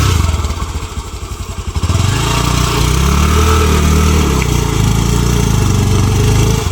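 A motorcycle engine straining loudly on a hilly road near Paderu while being pushed from behind, a close, labored, uneven chugging that settles into a rough, pulsing drone.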